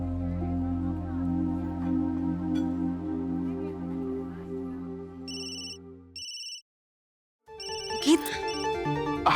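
An electronic phone ringtone chirps in repeated short bursts during a call, first under a held musical tone that cuts out, then clearer and louder after a brief silence.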